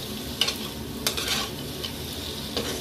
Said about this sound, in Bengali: এইবারে আমি ফুলকপিটা দিয়ে দেব, দিয়ে মশলার সঙ্গে ভালো করে মিশিয়ে নেব।